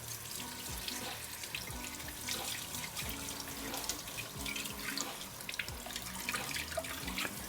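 Lentils rinsed under a running kitchen tap, water splashing steadily into the sink for several seconds with small drips and clinks, close and moderately loud, no talking.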